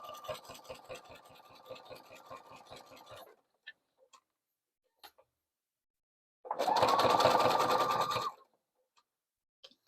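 A sewing machine stitches a jelly roll rug in two bursts: a slower rhythmic run of needle ticks, then after a quiet gap a faster, louder whirring stretch, close up and without talking.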